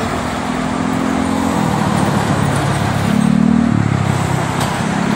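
Steady roar of afternoon traffic on the Jakarta–Cikampek toll road, with continuous tyre and engine noise and a heavier vehicle rumbling close by around the middle, loud throughout with no talk.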